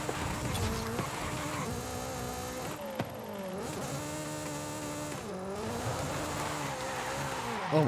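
A drifting car in Forza, the engine rising and falling through gear changes as tire squeal and skidding run beneath, steady and close, with a few sharp clicks.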